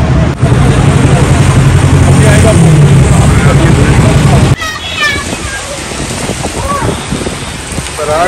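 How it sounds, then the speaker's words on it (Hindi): Heavy rain pours down at a wedding outing in Jhelum, a dense steady roar that drops off abruptly midway and continues more softly, with people talking over it. "यहाँ पहुँच गई बारिश"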